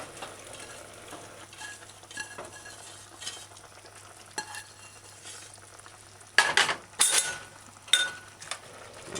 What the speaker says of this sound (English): And just stir it in.